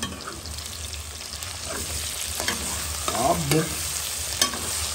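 Spices being stirred into a sausage curry frying in a pan, a steady close sizzle with scraping spoon strokes and light clinks, while a voice briefly speaks.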